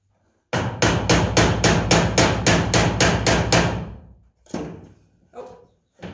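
Hammer blows drive nails into wooden pieces of a DIY chalkboard hanger, about a dozen quick, evenly spaced strikes, then a pause and a few slower, separate taps, close and loud with no talking.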